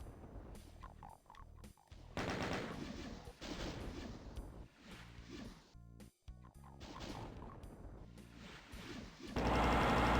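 Gunfire aimed at imps in Doom II, a string of heavy repeated blasts and impacts spread across the clip, loud and close with short gaps between shots.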